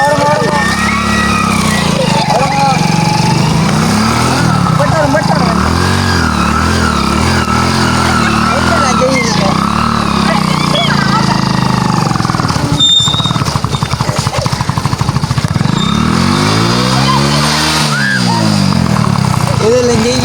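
Motorcycle being ridden slowly, its engine chugging loudly and close with repeated rising and falling revs, while people talk over it throughout.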